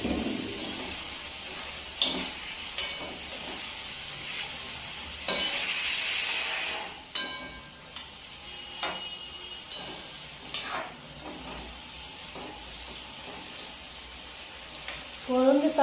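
Prawns are pan-fried tawa style and stirred with a spatula, giving crackling sizzle, scraping clatter and a loud burst of hissing steam midway that settles back into steady frying.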